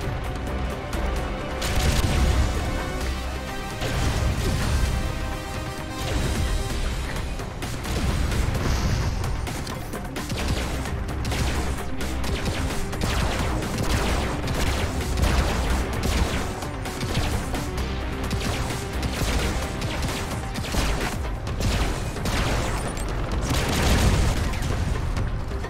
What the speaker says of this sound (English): these mortars are just messing me up